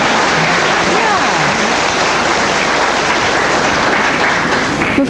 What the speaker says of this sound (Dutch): Moet je daar niet voor klappen, dus hartstikke knap.